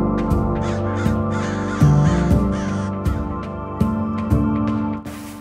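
Crows cawing repeatedly in harsh, spaced calls over a steady background hum, several sharp caws close and loud across a few seconds.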